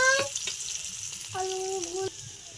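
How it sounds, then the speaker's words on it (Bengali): Chopped onion frying in oil in a pan, a steady close sizzle with light stirring scrapes and a couple of brief tonal whines over the hiss. "পেঁয়াজটা ভাজা ভাজা করে নিচ্ছি।"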